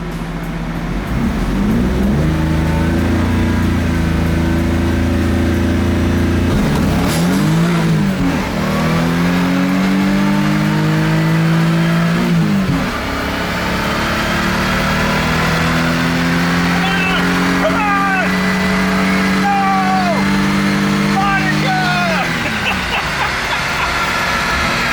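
A Toyota Supra with 200,000 miles on it accelerating hard through a quarter-mile run. The engine is loud and close, climbing through several gears with audible shifts, and people talk over the whole run.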